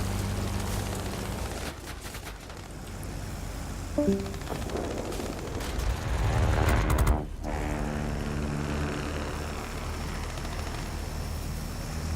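Fixed-wing aircraft guns firing in a flight combat video game with an Ar 67 plane, short bursts of gunfire over a steady droning propeller engine, with a louder swelling pass midway.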